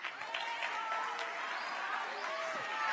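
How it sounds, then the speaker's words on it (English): Audience applause for two people holding a boat at a fall event, a steady crowd clapping throughout with some voices mixed in. "Why did y'all just clap for two dudes holding a boat?"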